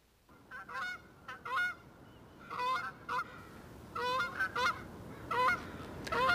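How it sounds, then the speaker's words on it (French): Canada geese honk during spring migration over a river, repeated nasal calls from several birds in irregular bursts, moderately distant over a faint background hiss. "le passage des oies qui vont vers le Grand Nord"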